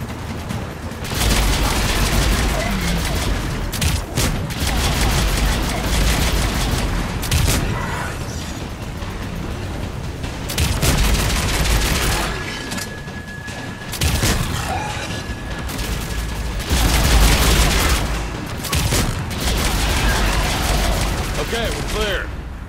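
Sustained firefight in Mass Effect 3, with dense volleys of gunfire and booming impacts running almost continuously at high loudness, broken by brief lulls, with voices mixed into the action.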